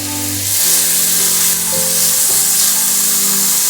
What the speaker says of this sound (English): here in a pan I do have some ghee heating up. Into that I'm gonna add some chopped onion.